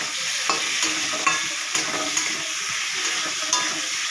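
Banana flower kofta masala with potatoes and a little sugar is sautéed and stirred in a pan, a steady sizzle with regular spatula scrapes and taps about twice a second.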